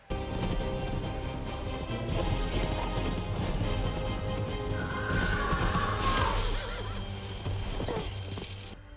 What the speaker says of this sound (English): Is she gonna jump and catch the horse?